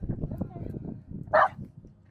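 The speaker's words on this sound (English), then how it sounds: "a dog barking at something" A single sharp dog bark cuts in briefly over ongoing low, muffled talking, in a camper van in the Picos de Europa, Spain.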